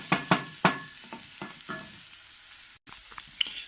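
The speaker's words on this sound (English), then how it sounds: "As you see, it's now I'm stirring with a wooden spoon," A wooden spoon stirs Iranian dolmeh filling in a hot pan, giving a few sharp scraping knocks early on and then softer, quieter strokes over a low sizzle, close up with no talking.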